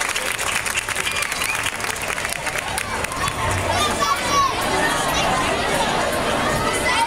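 At a primary school summer celebration, an audience gives another round of applause after children sing, loud sustained clapping mixed with chatter and children's voices.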